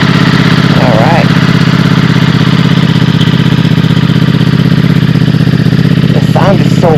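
New motorcycle engine running loud and close, a full, steady low throb that continues unbroken throughout, with brief faint voices over it.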